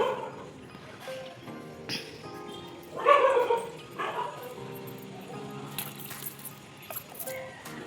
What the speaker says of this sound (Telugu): కుక్కలు అయితే అరుస్తున్నాయో